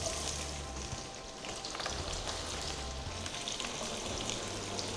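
Finely chopped onions sizzle in hot oil with whole spices such as cinnamon for a chicken curry. The frying crackles steadily and close up, with a faint stirring scrape.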